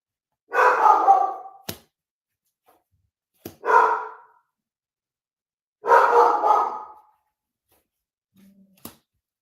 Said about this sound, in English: Somebody's banging on stuff out there, and the dog does not like it.